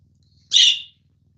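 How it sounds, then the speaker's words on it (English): A single bright chirp from a pet bird indoors, short and fairly close, standing alone against a quiet room. "She's been chirping her head off all morning."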